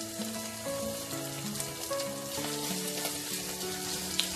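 Ginger paste and green chilies sizzle in hot oil as veg momo filling begins cooking, a steady close crackle and hiss running throughout, with faint tonal background sounds layered over it and no talking.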